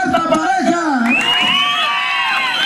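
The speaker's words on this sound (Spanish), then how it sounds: "¡El aplauso!" A lively crowd at a slapping contest in Cacalotepec Mixe, Oaxaca, cheers and whoops for a couple, with loud rising shouts close by and scattered voices mixed in.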